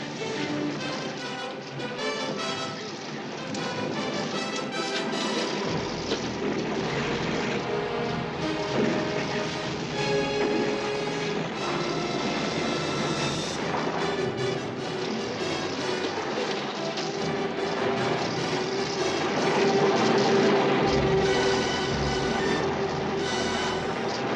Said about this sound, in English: He's losing his left engine.